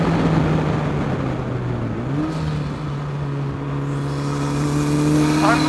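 An Ariel Atom 4 sports car with a Honda Civic Type R engine drones steadily under power on a track, a loud sustained engine tone shifting pitch and rising near the end.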